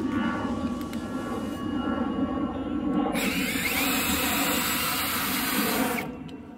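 A Gidly cordless brushless impact drill bores a bit fully into material, giving a steady, close motor whine that grows louder and harsher partway through, then cuts off just before the end.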